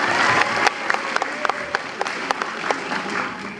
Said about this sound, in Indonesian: Tepuk tangan untuk Suri